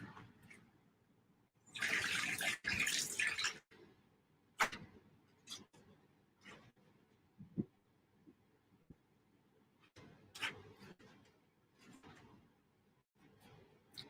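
A tap runs for a couple of seconds while freshly dyed teal yarn is rinsed, followed by quiet scattered clunks and handling noises, with a few short splashy bursts later.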